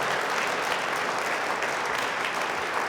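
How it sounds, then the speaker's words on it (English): A dense, steady wash of crowd applause at an outdoor education rally for school choice, continuous and even throughout with no voices standing out. "everybody give a round of applause to them for being willing to step up for school choice"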